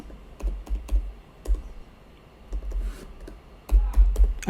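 Key presses on a TI-Nspire graphing calculator, tapped in quick irregular bursts of close, crisp clicks with short pauses between runs.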